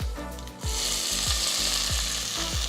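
Two medium onions, finely chopped, drop into a pan of crackling mustard seeds, and a loud, steady sizzle rises abruptly and continues, with low repeated scraping knocks from stirring underneath.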